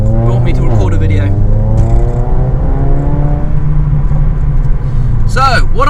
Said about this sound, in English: I am in a Mercedes-Benz A45 AMG original W176.